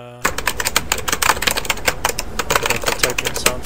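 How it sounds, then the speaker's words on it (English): Rapid typing text ticks from an Ace Attorney-style video game come in a dense, fast stream of bright clicks that start suddenly and run steadily, fairly loud, with no voices over them. "The typing sound from this attorney."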